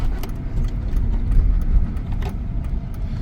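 A 2003 Mercedes-Benz W211 E320 with the 642 engine idles nearby, a low, steady rumble with faint clicks and no speech.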